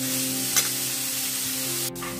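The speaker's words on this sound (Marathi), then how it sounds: "आता आपण ही भाजी मसाल्यामध्ये व्यवस्थित मिक्स करून परतून घेणार आहोत" Vegetables sautéing with masala in a pan for a village-style Bhogi sabzi, a steady soft sizzle with occasional stirring scrapes and a brief louder clatter near the end.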